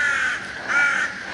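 Crows caw in a green, well-kept hotel garden, two loud harsh calls close by in quick succession with no voices over them.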